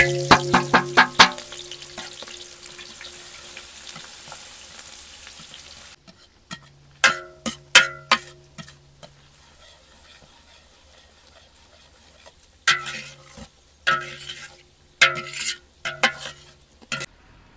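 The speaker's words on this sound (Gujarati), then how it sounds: "ત્યારબાદ નાખી દઈશું આપણે સૂકી ડુંગળી." Dried onion goes into hot oil with cloves and chillies for a village-style baingan bharta, starting with a loud sizzle that fades into a low fry. Repeated sharp clinks and scrapes of a spoon stirring the pot follow in bursts, and no one speaks.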